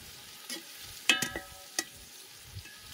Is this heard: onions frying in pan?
yes